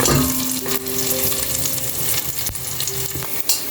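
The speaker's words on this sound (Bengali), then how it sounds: "তেজপাতা রসুন দিয়ে দিয়েছি তেলের মধ্যে একটু গরম করে নিব" Bay leaves and garlic sizzle in hot oil in a new cooking pot, a steady close crackling hiss that runs the whole time with small pops and a brief clink near the end.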